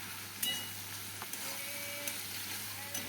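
Ginger garlic paste sizzling in a pan with prawns and onion for a potol chingri curry, a soft continuous frying hiss with a few faint clicks of stirring, quiet and close.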